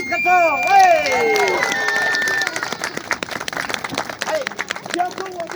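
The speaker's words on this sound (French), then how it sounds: "Et on applaudit très fort, ouais." An outdoor crowd at a fools' festival claps for a street performer. Voices rise at the start, then give way to a dense patter of sharp hand claps with chatter mixed in.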